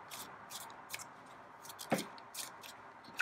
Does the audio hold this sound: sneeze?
no